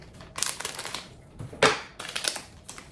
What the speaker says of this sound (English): I cannot tear this open, so we will cut it.